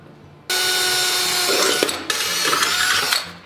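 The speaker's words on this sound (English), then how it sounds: "So I'm just gonna drill out the corners." Power drill bores through a mask workpiece, a sudden loud whining buzz that runs about three seconds with a brief dip midway before spinning down.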